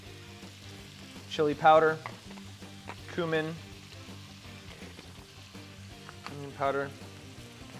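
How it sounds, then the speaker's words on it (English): Leftover meat sears in a hot pan with a steady soft sizzle, rising into three louder bursts of frying and stirring, while someone speaks over it. "We're not re-cooking it, we're just kinda searing it."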